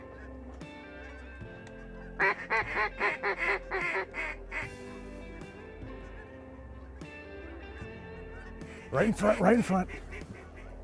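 Mallard ducks quacking in bursts of rapid calls during a greenhead duck hunt on western waters, one close run of quacks followed by a louder cluster, with someone talking quietly between them.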